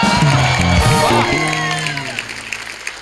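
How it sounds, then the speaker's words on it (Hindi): Studio audience applauding and cheering in a live Indian comedy show taping, a loud sustained burst that gradually thins out, with a voice and musical tones over the start. "जोरदार तालियां चंदू के लिए।"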